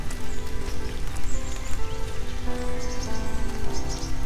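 Rain falls steadily in a nature preserve, a dense patter of drops striking leaves and ground, close and continuous with a faint hint of birds behind it.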